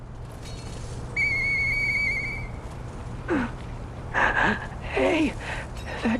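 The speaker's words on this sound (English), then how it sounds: "I know that whistle." In the video game Lies of P, a clear, sustained whistle rings out for about a second and a half, followed by breathy gasps and vocal sounds.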